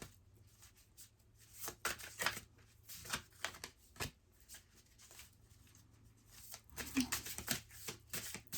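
Quiet papery riffling and soft slaps of cards being shuffled in bursts, with brief pauses between handfuls.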